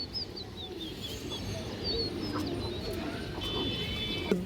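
Pigeons cooing softly at a loft, faint low coos with occasional chirps over steady background noise.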